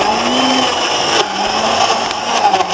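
A kitchen blender whirs loudly and continuously, blending chicken into a smoothie, with the motor pitch shifting slightly as the contents churn.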